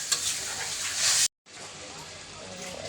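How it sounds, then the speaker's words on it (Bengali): Water tipped into a pan of frying potatoes sets off a loud, hissing sizzle that breaks off briefly and then resumes, continuing steadily at close range. "এখন জল দিয়ে দিই পরিমাণ মতো, বেশি জল দিব না"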